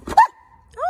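A single dog bark, the dog being fed during a healthy home lunch, sounds near and brief at the start, followed by quiet and then a short whimpering or vocal sound at the end.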